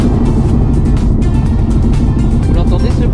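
Car driving over a rough, badly surfaced road near a London airport, with loud, constant low road and engine rumble filling the interior and irregular thumps and rattles from the bumpy surface.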